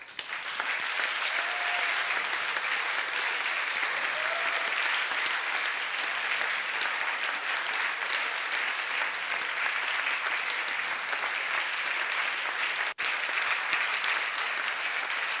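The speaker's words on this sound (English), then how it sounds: "So please give them all a round of applause." Long, even applause from a large audience at the AIJA annual general assembly in 2023, honoring hard-working members; many hands clapping steadily and loudly throughout, with a single sharp knock near the end.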